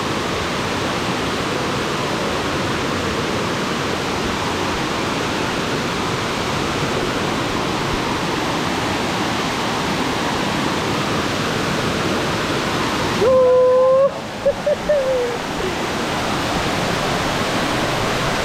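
Tukad Cepung waterfall in Bali pours in a constant, loud broadband roar, with a brief tonal call rising over the rush near the end.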